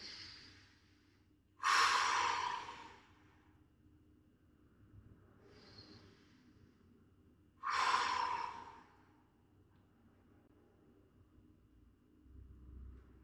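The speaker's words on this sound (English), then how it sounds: "I'm going to take a few more deep breaths in." A person slowly takes deep breaths in and out during a chiropractic swimming-mobility stretch, giving two long, loud airy breaths several seconds apart with fainter breaths between, close and alone in a quiet room.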